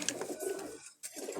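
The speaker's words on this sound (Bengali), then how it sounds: "মনির ভাই, আর এক জোড়া কবুতর দেখতে ভাই" A pair of pigeons cooing at close range in a sunny outdoor spot, soft throaty coos filling the short moment with a brief gap before resuming.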